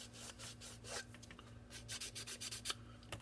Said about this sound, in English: I would take my sanding stick, give it a little rent on the inside here